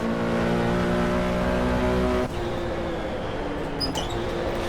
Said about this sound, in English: Big old V8, beefy V8 there in that Mustang.